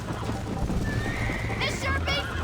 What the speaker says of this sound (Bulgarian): Конят ти щеше да мине през мене!